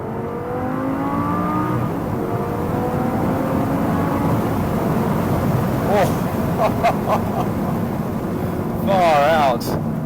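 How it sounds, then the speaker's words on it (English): A V10 sports car engine, previously flood-damaged, roars and revs with rising and falling pitch throughout, loud and close, with brief sharper bursts near the middle and end and a voice talking over it. "Really is a symphony of sound that V10 makes."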